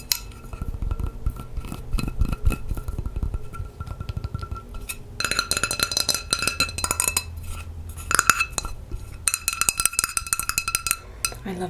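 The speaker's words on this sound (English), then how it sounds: "I love the sound of this thin pan" A thin peach-coloured Starfrit pan with a ridged base, peach silicone handle and Teflon-type nonstick interior is tapped and scratched up close, giving rapid bright metallic pings and clinks with scraping passages, no talking.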